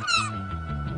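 A cartoon cat gives a single short, bright meow up close, followed by a soft tonal musical backing.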